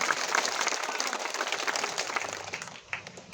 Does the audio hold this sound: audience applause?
yes